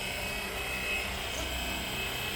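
Flywing Bell 206 RC model helicopter coming in to land outdoors, a steady high electric whine with a constant rotor hum, moderately loud and unbroken, no talking.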